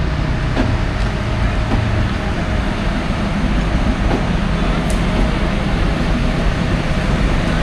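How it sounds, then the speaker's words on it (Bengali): Chitra Express pulls away from Alamdanga railway station, a dense, continuous rumble of the passing train heard close and loud with no talk. "এই যে চিত্রা এক্সপ্রেস এই মুহূর্তে চলে গেল"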